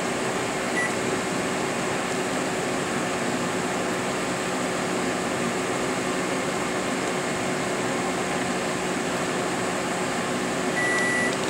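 A steady electrical hum and whir from a running Plasma Preen 11-973 plasma cleaning system drones evenly, with faint short beeps near the start and end as it runs and stops.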